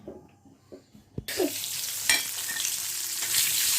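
A sudden burst of loud sizzling as country chicken eggs hit a hot wok, continuing steadily with a few stirring scrapes; quieter clatter comes just before.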